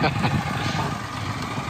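A steady, rumbling engine idles close by, a low continuous drone with faint voices underneath.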